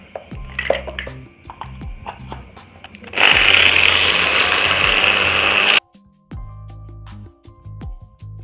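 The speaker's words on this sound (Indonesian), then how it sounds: "Tapi gerinda biar cepet." An angle grinder cuts noisily in one steady burst of a few seconds during a fan dynamo replacement, framed by clanking and tapping of metal parts.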